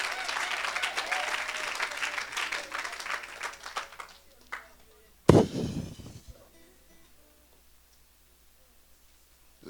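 Church congregation applauding and cheering during a sermon, dense clapping and voices for about four seconds, then a sharp loud burst with a shout before fading to quiet room tone.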